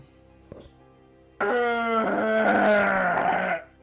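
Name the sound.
person imitating a wolf's noise with a human mouth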